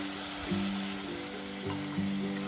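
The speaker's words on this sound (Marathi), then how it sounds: "आता अगदी थोडंसं पाणी यामध्ये ऍड करूयात।" A little water goes into a pan of mung and matki bean curry, raising a steady sizzle and bubbling, with a few soft stirring knocks against the pan, close and continuous.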